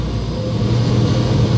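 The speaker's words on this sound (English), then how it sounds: "we now have the second engine starting up right now" A low, steady airliner engine rumble builds slightly in strength as the second engine starts up, a heavy continuous drone heard from inside the cabin, with no voices.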